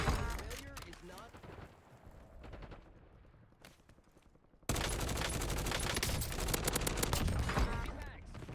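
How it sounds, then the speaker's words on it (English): Gunfire in a Warzone battle royale match: rapid crackling volleys and shots, quieter at first, then a dense, loud sustained barrage, with a voice talking over parts of it. "I'm getting sniped at"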